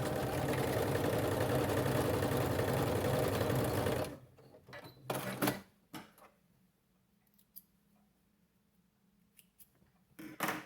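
A sewing machine runs steadily and loudly for about four seconds while stitching a Christmas stocking closed, then stops, leaving fabric handling rustles and small clicks.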